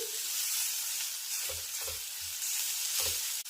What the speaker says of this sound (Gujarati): આ સ્ટેજે આપણે અડધી ચમચી જેટલી હળદર એડ કરીશું અને 1 ચમચી જેટલું ધાણા જીરું એડ કરીશું અને સારી રીતે મિક્સ કરી લઈશું